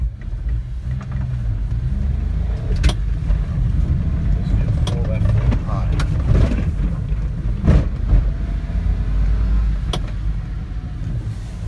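A 1992 Japanese 4WD mini truck climbs a slope in two-wheel drive, its small engine giving a continuous low, straining rumble with wind buffeting and a few sharp knocks from the cab.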